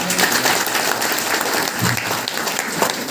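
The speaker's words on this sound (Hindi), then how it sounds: "तो एक बार ताली बजाएंगे।" A crowd applauds at a talk on consumer issues, with dense, steady clapping that stays fairly loud for the whole short stretch and no talk over it.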